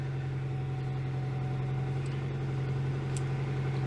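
A Citroen GSA with hydropneumatic suspension idles steadily in a workshop as its height lever raises the car, giving a constant low hum with faint whirring above it and no voices.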